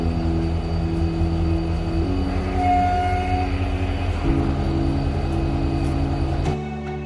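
A train rumbles at Porbandar railway station with a steady low engine drone and sustained tonal hum that shifts pitch, and a brief higher whine partway through, close and continuous.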